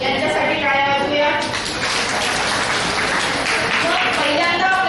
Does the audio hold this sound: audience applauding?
yes